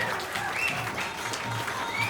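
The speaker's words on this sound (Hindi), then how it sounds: "2 बार तालियां" Audience at an Indian business seminar applauding a speaker; a brief, fairly soft wash of clapping with crowd murmur, heard from some distance in a large hall.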